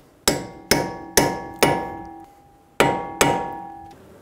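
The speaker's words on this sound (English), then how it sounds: "Using a hammer and a punch, we're going to stake the axle nut." A hammer drives a punch to stake the torqued front axle nut on a 2007-2011 Toyota Camry hub. Six sharp, ringing metallic strikes land close and loud, four in quick succession, a short pause, then two more.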